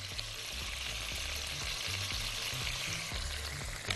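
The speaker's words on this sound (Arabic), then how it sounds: "نشوح كده مع البصل الكتير زي ما احنا شايفين، هنديها الملح والفلفل." Plenty of onions sauté in a pan, seasoned with salt and pepper, giving a steady, close frying sizzle with soft rhythmic stirring scrapes throughout and no voice.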